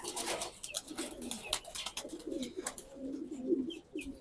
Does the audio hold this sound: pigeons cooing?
yes